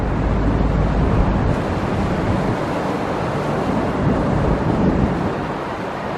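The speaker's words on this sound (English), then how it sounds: "I'm getting blown around from the wind." Strong wind buffeting a handheld microphone outdoors near the Tropicana demolition site in Las Vegas, a loud continuous rumbling roar throughout with no speech.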